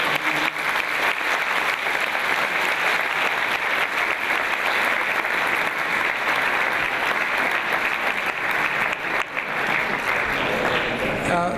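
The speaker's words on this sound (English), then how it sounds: "I first ask you to give a round of applause to Maggie Gallagher and John" An audience gives a round of applause to the debaters after a same-sex marriage debate, a dense, steady wash of clapping that fills the room and holds for about ten seconds.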